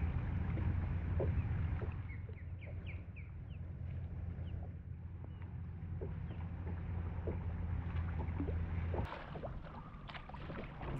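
Kayak paddling on calm water at Manatee Cove Park on Merritt Island, Florida, with a steady low wash and soft intermittent dips and splashes, outdoor ambience throughout and a brief chirp near the end.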